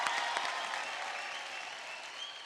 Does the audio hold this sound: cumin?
no